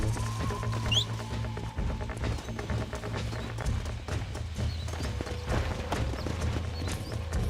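Horse hooves clop steadily in the Red Dead Redemption video game, a continuous trotting rhythm mixed with game ambience and occasional faint tones.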